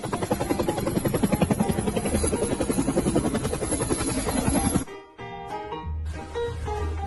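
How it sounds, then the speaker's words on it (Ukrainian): A helicopter's rotor thumps in a fast, steady beat with a loud engine whine, then the pulsing drops away as the sound changes near the end. "гелікоптер"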